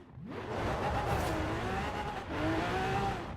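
A van fitted with a V12 Lamborghini engine revs hard in The Crew 2 racing game, a loud, steady engine roar rising and falling in pitch, with a brief dip in the middle before it climbs again.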